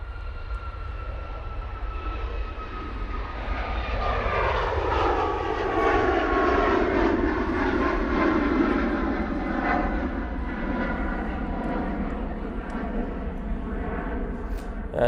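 An Emirates jet airliner departs Manchester Airport, its engine roar building from a distance into a loud, sweeping whine with shifting tones that peaks midway and then holds steady as it passes.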